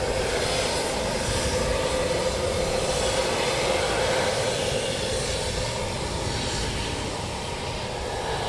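A military jet roars continuously and loudly while departing at RAF Coningsby during a NATO exercise, the engine noise broad, sustained and filling the scene without talk.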